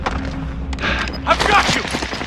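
Gunfire during a Call of Duty: Modern Warfare match, a short burst of rapid shots and booms under a player's excited voice.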